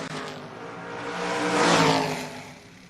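A drag racing door car, a Mustang, launches down the track, a broad engine roar swelling to a peak midway and then easing off as it pulls away.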